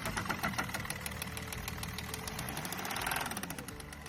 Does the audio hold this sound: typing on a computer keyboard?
no